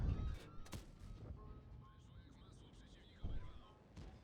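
Tank cannon fire in a tank battle game, a Leopard's shot striking the player's tank: heavy booming thuds, one at the start and a second later, with a faint engine hum between them.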